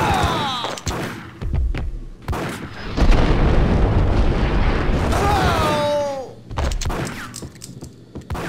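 A bomb blast in the Max Payne video game, a loud sustained rumbling roar lasting several seconds, preceded and followed by sharp hits and voices talking over it.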